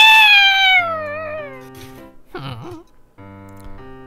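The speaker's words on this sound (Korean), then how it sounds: "뭐야, 고양이네?" A cartoonish cat meows in the Roblox game Adopt Me, opening with a loud drawn-out falling meow, followed by quieter game tones and a short wavering cry.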